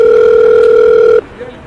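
A telephone tone, part of a phone call in a township drama, sounds loud and steady for just over a second before cutting off abruptly, leaving quiet room noise behind.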